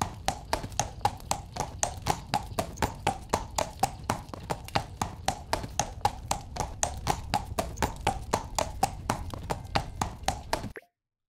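Steady, evenly spaced horse hoof clip-clops from a sound effect in the Meta Horizon Worlds desktop editor, a crisp rhythmic trot continuing for about ten seconds before stopping abruptly.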